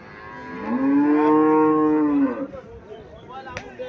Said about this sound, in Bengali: এখানে আর একটা হলিস্টিয়ান ফ্রিজিয়ান জাতের গাভি দেখা যাচ্ছে।